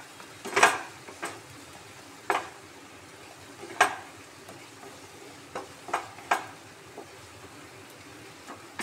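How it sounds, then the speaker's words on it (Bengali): Ground spice masala being stir-fried in oil in a pan, with a low sizzle under a sequence of sharp, irregular scrapes and taps of a metal spatula against the pan, close and moderately loud, no speech. "তেল ছাড়া পর্যন্ত মশলাটাকে ভালো মতো কষিয়ে নিতে হবে।"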